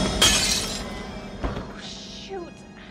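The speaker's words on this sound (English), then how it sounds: "It's not a party until someone breaks a glass." Glass shatters loudly and close at a lively house party, a bright crash with scattering fragments, followed by a few smaller clinks and thuds as pieces settle while voices carry on underneath.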